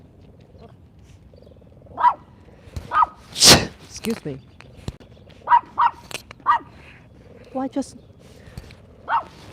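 A dog on a group pack walk gives several short barks and yips at irregular intervals at other dogs, close by, while people talk and someone sneezes loudly.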